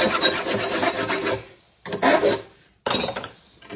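A rasp files the wooden body of a Sicilian marranzano jaw harp, with close rhythmic scraping strokes in three bursts separated by short pauses.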